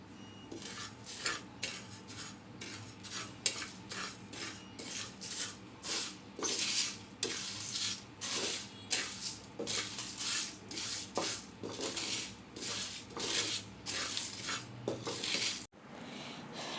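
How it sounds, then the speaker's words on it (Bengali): Repeated scraping strokes of a spatula across a dry pan, rhythmic and fairly quiet, as spices for mango pickle are lightly roasted; no voices. "এবার সবগুলো মশলা আমি হালকা করে বেজে নিব বেশি কড়া ভাজা করা যাবে না"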